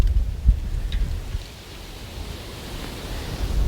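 Wind gusts across a cemetery and buffets the microphone, a broad rushing roar with low thumps that eases briefly and then builds again.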